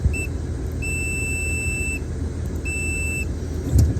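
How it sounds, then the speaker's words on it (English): A multimeter set to continuity gives steady electronic beeps as its test leads touch while checking a lawn mower switch, two long tones and short blips over a constant low rumble. "Whenever you touch your two leads together, it should beep."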